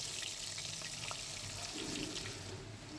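Glass cup fish frying in hot oil in a Bengali home kitchen, heard as a faint, steady hiss of sizzling with light crackles throughout, no voices.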